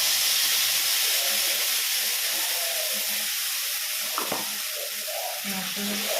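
A paste of ginger, chilli and cumin hisses and sizzles loudly in a hot pan, a dense continuous frying crackle close up, with faint stirring and a voice briefly underneath.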